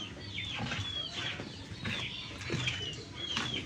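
Steady high peeping from a group of small birds, rising and falling through a busy farmyard background, with some wing flutter and clucking mixed in.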